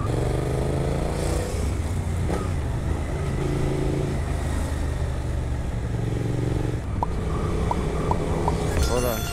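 A Suzuki GSX8S motorcycle ridden toward the Piton de la Fournaise volcano, its engine and exhaust a steady loud drone throughout with shifting pitch as it rides, and a few brief higher tones near the end.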